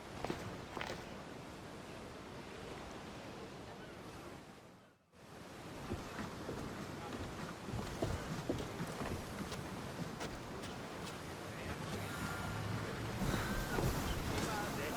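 A ship sails on open sea in Assassin's Creed Odyssey, giving a steady wash of waves and rushing wind that drops out briefly partway through, then swells louder toward the end, with no voices.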